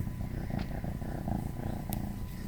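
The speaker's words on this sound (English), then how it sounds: "the little cutie you can see and hear in this video is Jasper" A young cat purring close up, a steady low rumbling purr that continues without a break at moderate volume, with a couple of faint small noises over it.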